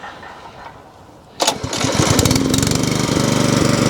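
A Jewson's rotavator engine fires up after a quiet start and settles into a loud, steady, chugging run with rapid regular pulses, working an allotment.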